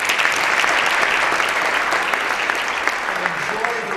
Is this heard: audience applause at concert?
yes